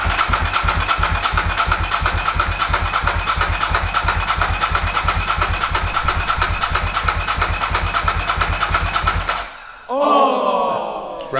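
A Ducati 916 SPS motorcycle, unstarted for 17 years, cranks loudly and rhythmically with a rapid, even starter-motor pulse for about nine seconds, then stops, and excited voices follow.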